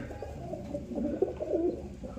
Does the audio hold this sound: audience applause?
no